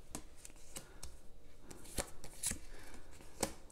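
Tarot deck being shuffled by hand, with faint papery riffles and sharp card snaps at irregular intervals, close and quiet, with no talking.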